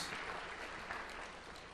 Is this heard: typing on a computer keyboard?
no